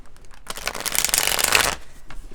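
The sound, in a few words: shuffling tarot cards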